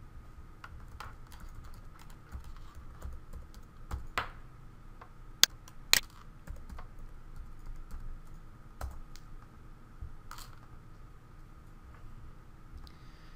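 Typing a username and password on a computer keyboard, a close, steady run of light key clicks with a few sharper louder taps in the middle, no talking.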